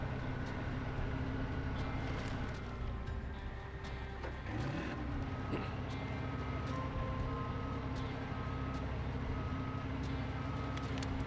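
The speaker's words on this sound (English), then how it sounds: "The subtle tones of the backup beeper." Heavy truck backup beeper in the SnowRunner video game: faint, steady repeating beeps over a loud, continuous diesel engine rumble, with no talk.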